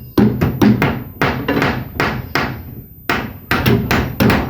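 Hammer striking wood while a house is being built, a series of loud sharp blows in uneven bursts, some spaced apart and some in quick pairs, close by.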